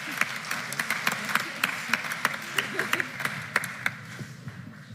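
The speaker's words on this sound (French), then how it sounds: "Maintenant vous pouvez applaudir." Scattered audience applause at a French medical society session fills the room, with individual claps standing out over a moderate, steady patter that thins toward the end.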